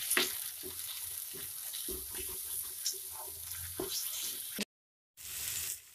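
Tomato sauce is stirred into frying chole masala spices, a steady soft sizzle with repeated scraping strokes of a spoon against the pan, close and quiet, ending in a brief cut before the sizzling resumes.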